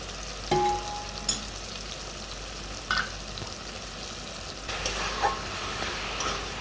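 Mustard paste with green chilli paste and a splash of water cooking in a hot pan for a Bengali mustard water-lily dish, giving a soft steady sizzle with a few sharper scraping stirs, close and moderately quiet.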